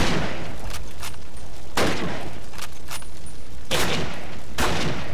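Repeated loud gunfire bursts in the Call of Duty Save London Bridge mission, several sharp broadband shots at irregular intervals over constant battle noise, no talking.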